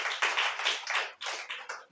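A church congregation claps together during a worship service, quick bright rhythmic hand claps in short bursts, fairly faint and somewhat distant.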